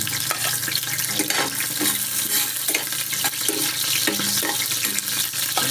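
Garlic sautéing in a hot pan, a loud continuous sizzle broken by repeated scraping stirs at an uneven rhythm.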